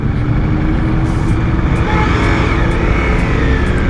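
Ducati Multistrada V4S motorcycle in sport mode accelerating hard, a loud, steady close engine roar with no talk over it.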